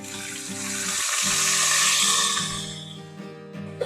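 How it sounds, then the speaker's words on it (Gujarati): About a quarter cup of water goes into a hot tempering of mustard seeds, asafoetida and green chilies for vati dal khaman, giving a loud, hissing sizzle that swells and then fades to a quieter bubbling. "મરચાં થોડા થાય પછી 1/4 કપ જેટલું પાણી એડ કરીએ"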